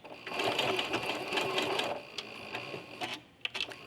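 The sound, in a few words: sewing machine doing back stitches on quilt binding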